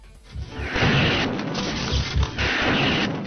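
Spread-shot weapon firing in a multiplayer video game, a rapid run of heavy booming blasts and bursts layered into a loud, continuous barrage with no speech.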